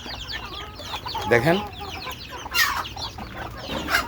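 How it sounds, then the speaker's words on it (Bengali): Large egg-laying hens cluck close by in short, uneven bursts of calls over a quiet farmyard background, and someone briefly speaks among them. "এগুলো হচ্ছে আমার সবগুলো রানিং ডিম পাড়া মুরগি, বড় মুরগি।"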